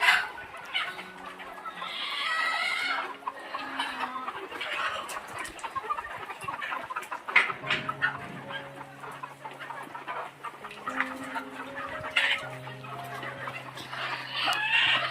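Chickens and large roosters on a farm cluck steadily throughout, with overlapping calls from several birds close by and a busy, continuous barnyard chatter.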